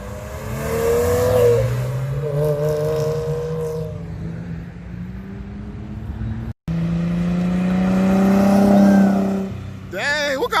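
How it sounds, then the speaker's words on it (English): A Porsche accelerates hard on take-off at a European car show, its engine revving in rising and falling sweeps, loud and close, while people talk nearby. "The Porsche is coming out."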